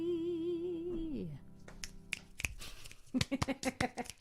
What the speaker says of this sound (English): Clap, snap, whatever you want to do.